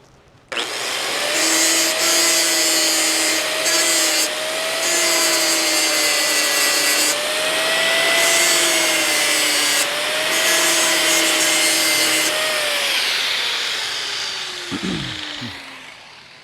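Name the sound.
grinding out a charred spot on an old tank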